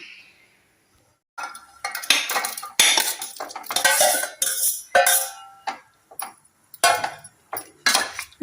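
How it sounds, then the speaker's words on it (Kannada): Boiled drumsticks and potatoes tipped into a cooking pot with a run of clinking, scraping utensil clatter in irregular bursts, close and fairly loud, with no talking. "ಇವಾಗ ಇದು ಬೇಯಿಸ್ಕೊಂಡಿದ್ದೇವಲ್ಲ, ನುಗ್ಗೆಕಾಯಿ ಮತ್ತು ಇದು ಆಲೂಗಡ್ಡೆ, ಇದನ್ನು ಕೂಡ ಇದಕ್ಕೆ ಹಾಕ್ತಾ ಇದ್ದೇನೆ."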